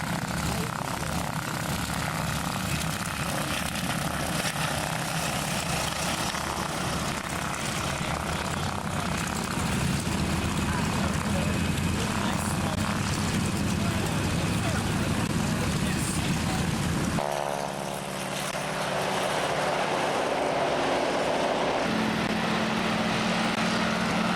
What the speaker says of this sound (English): I think that this is probably my favorite airplane